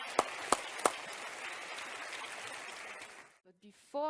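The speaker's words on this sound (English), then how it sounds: "Big round of applause again" Sustained applause from a large audience at a Euroscola youth event in Strasbourg, steady dense clapping with a few sharp claps near the start, fading out before voices begin at the end.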